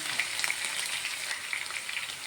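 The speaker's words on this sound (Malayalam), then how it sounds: "ഇനി ഈ വെളുത്തുള്ളി ഒന്ന് ഒരുവിധം ഒന്ന് വഴന്ന് വരണം" Garlic sautéing in a pan of oil for a lime pickle, a bright, dense crackling sizzle heard up close and alone, with constant small pops.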